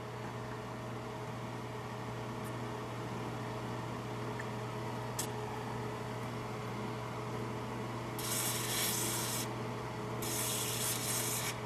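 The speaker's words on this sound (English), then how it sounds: "we're going to try a little bit of WD-40" WD-40 penetrating oil sprayed onto seized front brake parts of a Nissan Rogue, two hissing bursts of spray near the end over a faint steady background hum, with no speech.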